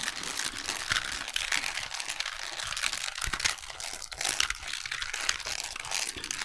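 A small Rubik's cube is twisted rapidly and repeatedly up close, producing dense plastic clicking and crackling that runs continuously without pause, with no speech.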